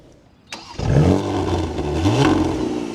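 A luxury Porsche's engine fires up via its left-side start button, a sharp starter crank followed by a loud catch and a brief rev that settles into a steady, close idle.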